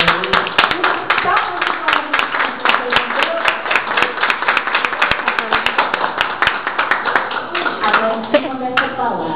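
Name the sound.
congregation applauding for Jesus during a church sermon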